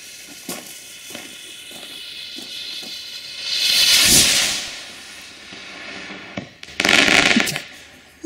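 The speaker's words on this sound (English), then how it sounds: "Let's try to find out how long the fuse burns." Powder rocket fuse burning in bursts of hissing fizz, a long swelling hiss in the middle and a sharper sputtering burst near the end, with faint pops and clicks between, no talk.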